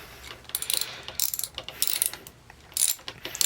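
A socket ratchet works loose a motorcycle spark plug, giving rapid, close clicking bursts from the pawl in several uneven strokes with short pauses between them.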